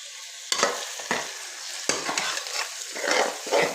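Small chopped chicken pieces fry in a pan with onion and garlic for chicken macaroni. A spoon stirs them in several scraping strokes over a constant close sizzle, and no one speaks.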